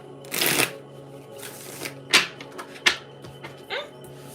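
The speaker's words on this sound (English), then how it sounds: "I'm shuffling. You guys are watching me shuffle," Tarot cards are shuffled in several short riffling bursts, close and fairly quiet, with a faint low hum underneath and brief pauses between shuffles.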